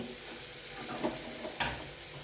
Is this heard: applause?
no